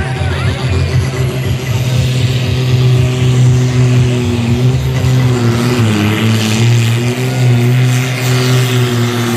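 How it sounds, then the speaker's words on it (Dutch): John Deere pulling tractor in the 3600 kg Supersport class at a tractor pull in Halsteren roars with a loud, sustained engine drone and steady throbbing pulses throughout, close and dominant. "Hoorde bij de start al niet de compleet zuivere lopende motor van deze John Deere blijft, dames en heren, Jos Konijn."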